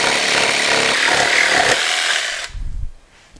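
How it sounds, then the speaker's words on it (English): A jigsaw saws through a wood board, a loud dense buzzing rasp that runs steadily for a couple of seconds, then cuts off and leaves a few low thumps and handling knocks. "You can even do the same trick with a jigsaw, just using that as a square to keep you somewhat 90 degrees."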